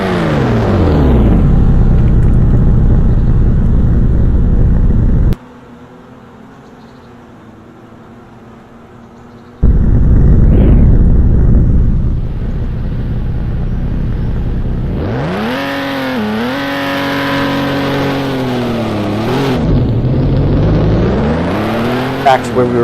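1960s Formula 1 race cars lapping a track at the 2022 Patriot Grand Prix, loud engine roar and revving cars passing close, with a quieter gap midway and rising, swooping engine whine near the end.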